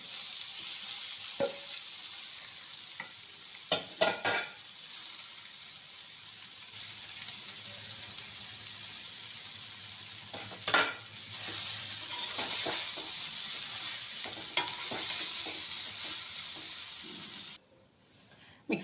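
Basmati rice being stirred into a pan with roasted peanuts for a coriander rice dish: a steady close sizzle with scraping and clinking stirring strokes scattered throughout, ending in a sudden cut to near silence.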